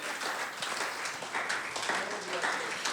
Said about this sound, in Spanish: Puede darle una ofrenda de palmas al Señor.